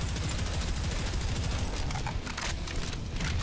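Rapid gunfire in the video game Prodeus, a dense run of shots over a rumbling low end, loud and continuous with no pauses.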